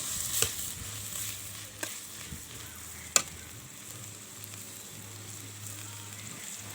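Chopped tomatoes drop into a hot frying pan and set off a steady sizzle close by, with a few sharp clatters of a utensil against the pan and no voices.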